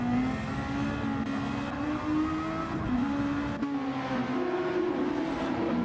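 A Super Formula open-wheel race car at Catalunya sounds loud and close throughout, its engine note dropping as it brakes into a corner and then climbing as it accelerates away, with a continuous high-revving drone.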